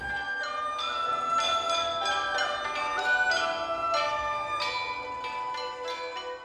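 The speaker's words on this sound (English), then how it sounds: "Cultural Chinese instruments were played," Bells ring out in a series of clear, resonant struck tones at a concert of traditional Chinese instruments inside a tower in Xi'an, each strike overlapping the ringing decay of the last, moderately close and alone.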